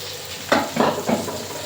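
Ground ginger, garlic, chilli and cumin paste hits hot oil in a pan with a bright sizzle, then stirring brings a few quick frying bursts, close and brief.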